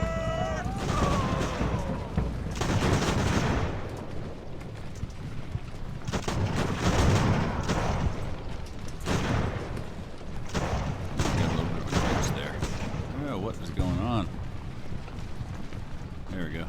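Artillery in the sailing-era naval battle game Ultimate Admiral: Age of Sail, repeated booming shots and rumbling volleys at irregular intervals over a continuous bed of wind and battle noise.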